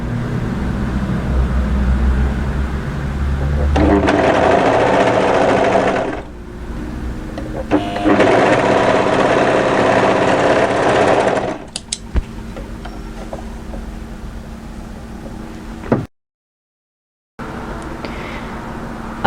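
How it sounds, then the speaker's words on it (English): Overlocker stitching a fabric seam on a draped dress, two close bursts of fast, even mechanical whirring separated by pauses, with small clicks and handling noises in between. "we're going to overlock down to the notch position"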